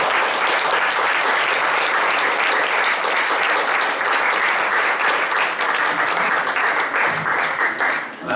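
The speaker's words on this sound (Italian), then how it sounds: "facciamo un bel applauso" Warm audience applause at a theatrical evening honoring Samuel Beckett, sustained dense clapping from a large crowd lasting several seconds before tapering slightly at the end.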